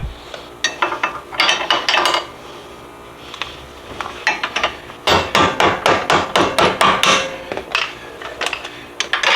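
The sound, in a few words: removing 14mm nuts on the strut tower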